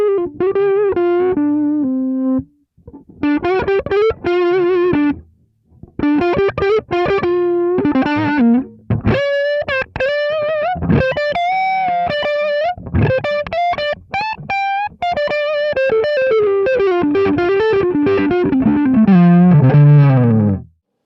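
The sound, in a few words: electric guitar through an overdriven amp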